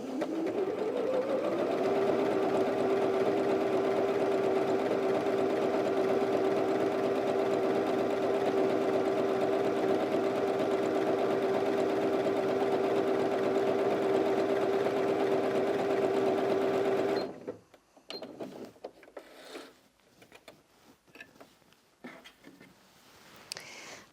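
A Janome 360DC sewing machine runs a stretch stitch through fabric in a steady, loud, continuous whir for about seventeen seconds, then stops, leaving faint handling noises.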